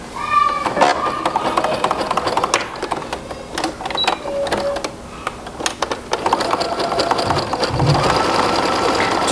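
Sewing machine top stitching a stretched elastic strap, bursts of rapid needle clatter broken by short pauses and fabric handling noises, close and moderately loud.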